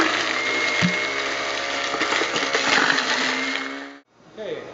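A fruit grinder chews through pears for cider with a loud, steady whirring grind, then cuts out abruptly near the end before a brief mechanical rattle.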